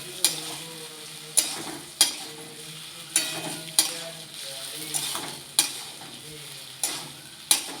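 Okra stir-fried with spices in a pan, a spatula scraping through the sizzling vegetables in regular strokes about once a second, each stroke a sharp scrape over a continuous close frying hiss.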